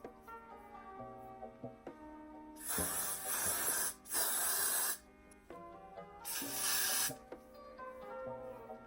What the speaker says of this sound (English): And then I grabbed my Got to Be Glued spray, freeze spray, and I'm gonna spray this all over my hairline.